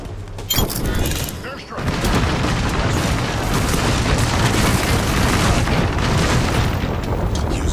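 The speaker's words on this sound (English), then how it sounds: "Airstrike!" Airstrike explosions in the game Apex Legends: a sharp blast opens, then a dense, relentless barrage of booms and bursts rolls on loud and unbroken for several seconds.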